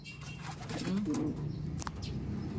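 Racing pigeons coo softly after landing at the end of a derby race, several low throaty coos close by over faint background rustle and a few chirps.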